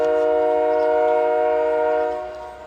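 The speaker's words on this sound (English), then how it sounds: "That train's taking the level crossing." A train sounds a loud, sustained multi-tone horn as it takes a level crossing, holding steady for about two seconds before fading away.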